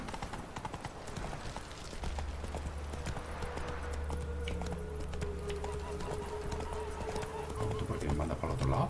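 Horse hooves galloping in The Witcher video game, a quick continuous clip-clop rhythm under a low droning game score, with a snort near the end and no talking.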